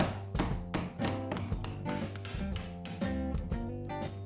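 A chisel is hammered against a hinge pin on a fiberglass entry door, driving it upward in a steady series of sharp metallic taps, close and loud, about two per second with no talking.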